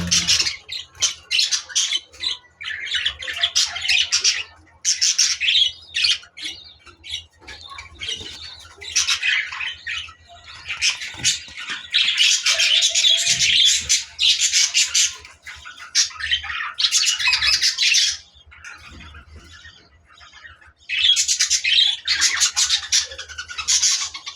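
Budgerigars squawk and chatter in busy bursts, shrill calls coming in waves with short lulls between them, close by and fairly loud.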